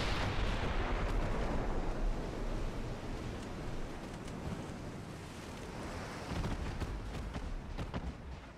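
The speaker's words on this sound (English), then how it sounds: "The Hawaii does look very nice with all those secondaries going off." Secondary guns of the battleship Hawaii fire in the naval video game Ultimate Admiral Dreadnoughts, a dense, rumbling barrage of overlapping booms that rolls on continuously with no voices.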